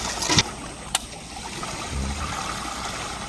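Choppy river water in the Sundarbans at ebb tide, heard from a boat as a steady rushing wash with a couple of sharp knocks near the start.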